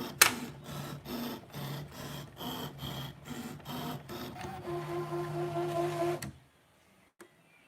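A ScanNCut machine cutting fabric gives a steady series of rhythmic mechanical whirs and clicks, then a sustained motor hum before stopping abruptly into near silence, with a faint click after.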